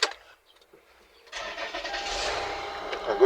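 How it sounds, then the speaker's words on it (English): A Toyota Highlander engine cranks and catches after a short quiet pause, then settles into a steady idle that stays moderately loud and nearby until the end. "I'm going to start the car now."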